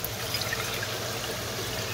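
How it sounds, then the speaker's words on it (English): Ammonia solution poured from a graduated cylinder back into a quart jar, a steady soft trickle of liquid, close and continuous for a couple of seconds. "I'm gonna pour it back just to be darn sure that it's good and mixed"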